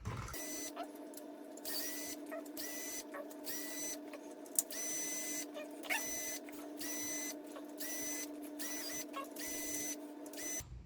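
Power driver backing screws out of a Losi NASCAR RC car chassis, a close series of short, high whirring bursts repeating in a steady rhythm, with no talking.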